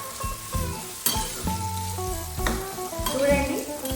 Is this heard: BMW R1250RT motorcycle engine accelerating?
no